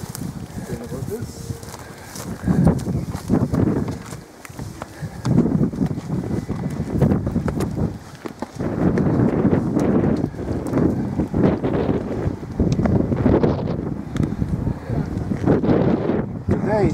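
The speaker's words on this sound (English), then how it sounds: "It's going to be windy." Strong wind blowing across a hilltop at Fort Madalena in Malta, roaring steadily into the microphone with gusty low rumble, while footsteps and occasional voices are heard beneath it.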